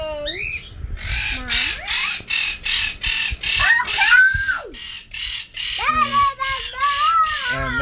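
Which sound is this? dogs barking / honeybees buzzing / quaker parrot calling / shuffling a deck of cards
quaker parrot calling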